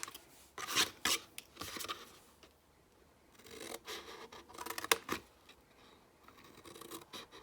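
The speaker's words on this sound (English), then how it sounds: "And trim this one into tabs." Scissors trim a cardstock box flap into tabs, giving quiet, close, intermittent crisp snips and rasping cuts in short bursts with brief pauses between.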